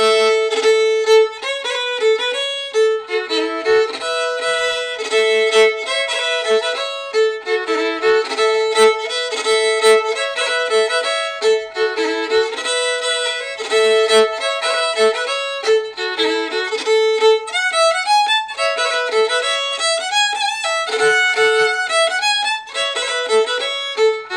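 A lively Scottish strathspey played on a single bright, reedy melody instrument, steady and continuous with a bouncing, dotted dance rhythm.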